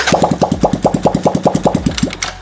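A 2015 Yamaha Jupiter Z1 motorcycle engine fires up close by and runs in a fast, even putter of regular pulses that fades near the end, with no talking.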